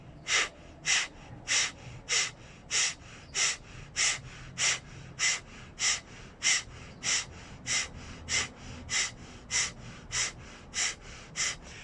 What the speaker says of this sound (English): Begin to exhale and begin with Kapalabhati for 1 minute.